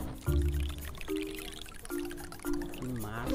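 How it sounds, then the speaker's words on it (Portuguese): Water is drained out of a car in a steady pouring, splashing stream, heard close and fairly loud throughout, with faint tonal sounds in the background and no talking. "Vou tirar a água do carro."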